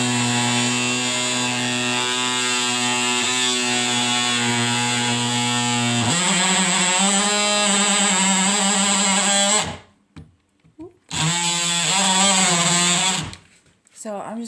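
A DeWalt power saw cuts plywood while a kitchen counter is reshaped freehand, giving a loud, steady whining buzz whose pitch shifts partway through, then briefly stopping and restarting near the end.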